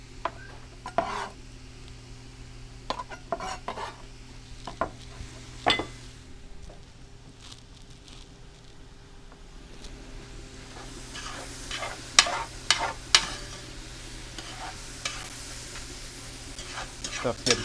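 Onions frying in a pan while being stirred, a steady sizzle throughout with scraping stirs and light clinks of the utensil against the pan, a person speaking faintly in the background.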